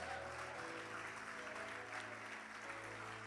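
Church congregation applauds during a sermon, a faint, continuous wash of clapping over a low steady hum.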